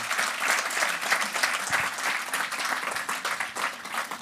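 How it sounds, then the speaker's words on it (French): Applause from a conference audience at a talk on using artificial intelligence in professional work: steady, dense clapping that fills the room and holds throughout without a break. "on peut applaudir."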